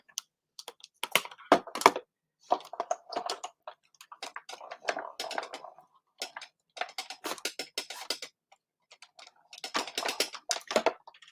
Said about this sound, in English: You can hear all the clunking as I emboss it.